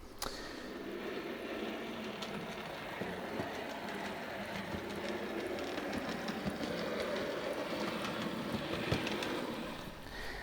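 An OO gauge model railway train runs along the track with a steady rolling rattle and faint clicks throughout, close and even in level, with no talking.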